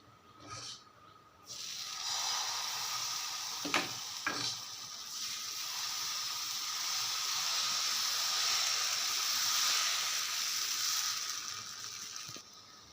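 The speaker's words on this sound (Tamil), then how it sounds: "கல் சூடாயிருச்சு இப்போ இதில் நம்ம இதை தோசையாக ஊற்றிக்க வேண்டியதான்" Wheat dosa batter hits a hot stone griddle on a stove and sizzles in a steady bright hiss, preceded by a few scraping knocks as it is spread, then fizzing evenly for about ten seconds.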